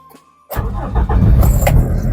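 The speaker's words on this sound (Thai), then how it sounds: "สตาร์ททีเดียวติดนิ่ม ๆ เลยนะครับ" A 2001 Honda City Type Z 1.5 EXi automatic cranks briefly and catches, its engine settling into a steady, fairly loud running note close by.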